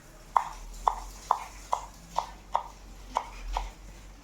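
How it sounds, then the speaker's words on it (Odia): A knife chops through fresh coriander leaves on a board, eight crisp, evenly spaced taps close by and fairly quiet, with no talk. "ଏବେ ଆମର କଟାକଟି ଷ୍ଟାର୍ଟ ହେଇଯାଇଛି"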